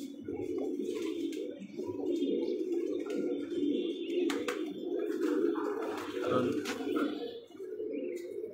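Pet pigeons kept as a rooftop hobby coo in low, rolling murmurs that go on steadily throughout, close by, with a few faint chirps and background clatter.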